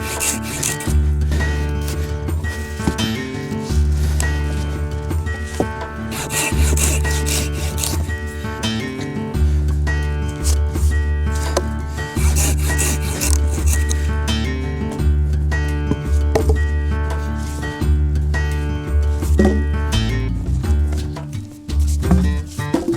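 A hand saw cuts through wood in the forest with steady back-and-forth strokes, loud and close, keeping a regular rhythm throughout.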